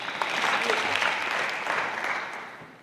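A crowd at a community meeting claps steadily throughout, a dense burst of applause that swells slightly and then fades toward the end.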